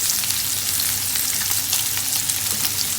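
Bacon frying in a pan, a steady close crackling sizzle with tiny pops throughout and no talk.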